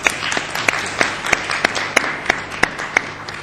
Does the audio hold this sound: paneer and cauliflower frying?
no